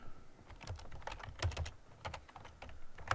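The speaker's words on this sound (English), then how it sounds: "Put in our password," Fingers type a password on a computer keyboard, a soft, fairly quiet run of quick key clicks with no talking.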